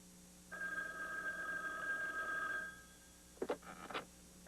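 A telephone bell rings in one long continuous burst of about two seconds, moderately loud, followed by a few short clattering knocks.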